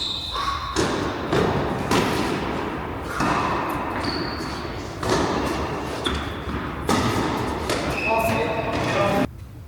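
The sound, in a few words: tennis ball volley in a doubles match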